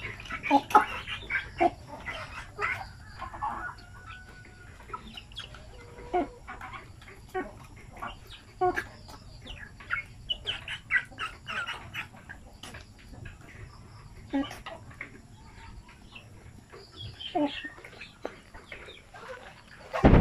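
Chickens raised for sale by the kilo cluck and scratch around in irregular bursts at close to middle distance, with occasional sharper calls against a quiet farmyard background.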